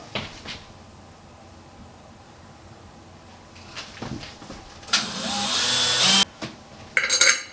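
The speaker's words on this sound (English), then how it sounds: "So now I'm just drilling the holes for the handle" A power drill whirs in short bursts, then sustained high-pitched drilling of handle holes in a mirror barn door runs for over a second before stopping, with clatter and handling noises around it.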